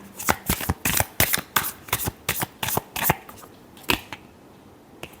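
A deck of tarot cards is shuffled by hand in a rapid series of crisp riffling bursts, about a dozen close, sharp flutters with short pauses near the end.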